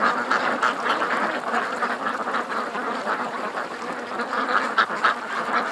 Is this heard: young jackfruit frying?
no